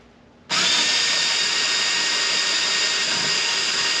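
A power drill spins on a stuck, rusted screw on an old gasser car. It starts abruptly and keeps up a loud, steady whine for more than three seconds without a break.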